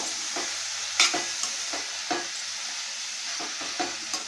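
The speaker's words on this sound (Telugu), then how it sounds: "ఈవెన్గా కలుపుకోవాలండి పోపులో" Broad beans fry in an oil tempering with a constant sizzle, while a spatula scrapes and taps the pan in a loose rhythm of repeated strokes, close by.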